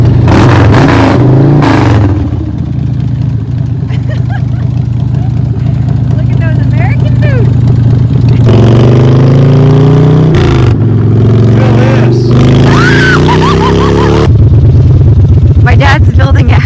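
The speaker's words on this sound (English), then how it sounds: "He geared me up for a motorcycle ride with him on his new Harley." A Harley-Davidson motorcycle engine rumbles loudly on the move, revving up partway through, with heavy wind noise and a voice talking over it.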